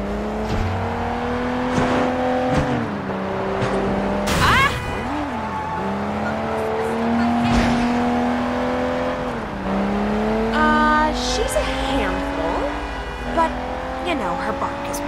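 Car driving in Sleeping Dogs, engine droning and shifting pitch as it accelerates and slows, with occasional tire squeals, mostly under steady character dialogue.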